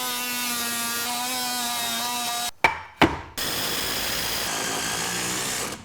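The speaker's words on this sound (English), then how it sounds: "I'm going to notch the old 2x4 so I can get this piece in." Sawing a notch into an old 2x4 for a scrap-wood garage workbench, a steady whining power saw cutting wood with a brief double pause in the middle, close and loud with no talking.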